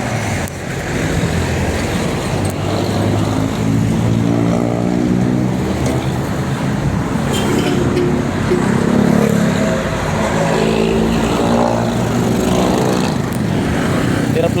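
Steady rumble of road traffic and engine drone heard from inside a moving vehicle in slow midday traffic, continuous and fairly loud throughout, with no talking.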